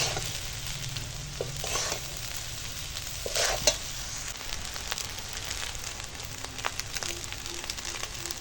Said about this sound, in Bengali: এবার হালকা হাতে নেড়ে নেব তেল ঘিয়ের সঙ্গে একটু ভালো করে একটু রান্না করে নেব